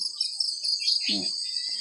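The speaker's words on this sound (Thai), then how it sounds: "เสียงกบเสียงเขียดเสียงไก่ ร้องจิ๊กแจ๊กนี่" Outdoor insects keep up a high, continuous chirring drone, broken midway by a brief low croaking call close by.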